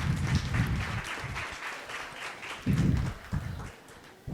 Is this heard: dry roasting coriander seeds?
no